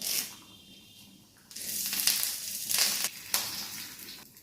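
Curry leaves crackle and sizzle as they hit frying onion and green chili for a Kerala-style anchovy fish curry, with loud hissing bursts that swell and ease, close up and without talk.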